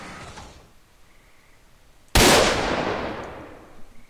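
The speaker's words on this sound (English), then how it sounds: "Definitely love these gun sounds" A single sharp, close gunshot in S.T.A.L.K.E.R.: Call of Pripyat with the Arsenal Overhaul mod cracks out of near silence, followed by a long echoing tail that fades slowly.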